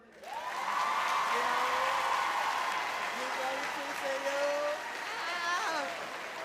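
A crowd at the Dillard High School 2021 graduation claps steadily for several seconds, with high whoops and cheers rising over the applause near the end.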